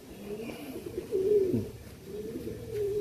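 Female Madrasi pigeons, a pure long-distance racing breed, give low rolling coos, one swelling call in the middle and another near the end, close and clear over a quiet background.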